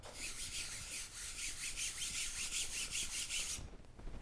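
Repeated hand strokes rasp across the dirty, gritty face of a pickleball paddle, a close, steady scratchy rubbing in an even back-and-forth rhythm that cuts off before the end.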